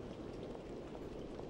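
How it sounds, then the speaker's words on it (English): Steady rain falls in the video game Primal, a dense continuous hiss of drops at constant loudness throughout, with no other sounds standing out. "also notice there's a hell of a lot of rain going on."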